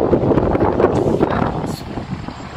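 Strong wind buffets a microphone outdoors in Panama City, a loud, continuous low rumble with gusty swells and no clear speech over it.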